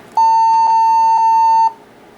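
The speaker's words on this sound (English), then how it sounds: "It's beeped at me, it's making grunting noises from its optical drive" A desktop computer gives a single steady electronic beep at startup, loud and close, lasting about a second and a half before cutting off into quiet room hiss.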